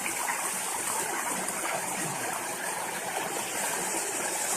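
A mountain river rushes steadily through a Crimean gorge near the Yauzlar waterfalls, a constant close broadband wash of water with no voices.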